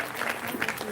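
An audience at a Shivratri celebration gives a brief burst of clapping, a steady patter of many hands for about a second with a faint murmur underneath.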